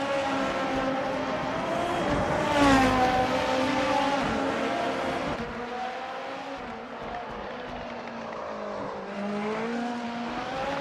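Formula race cars lapping Motegi in a racing video game, high screaming engine notes climbing and falling through gear changes as cars pass close, a busy overlapping whine with no talk.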